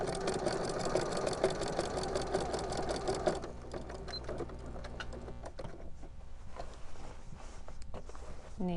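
A sewing machine stitches a Christmas stocking in a fast, steady whir for about three seconds, then slows to a few scattered stitches and soft handling noises, close by.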